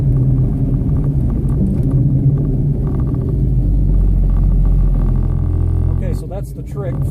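A 1980 Buick Regal with a repaired transmission drones along in a low, steady engine rumble while driving, with a shift in engine note near the end and voices talking over it.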